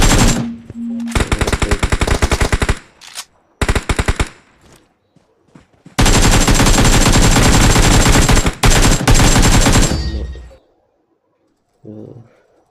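Bursts of automatic gunfire from the battle royale video game PUBG, coming in dense rapid volleys separated by short pauses, loud and close. One long sustained burst runs through the middle of the stretch, and a brief faint sound follows at the end.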